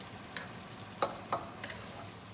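Chopped shallots cooking in a pan, a faint low sizzle with a few soft clicks and taps of stirring, quiet and close with no talking.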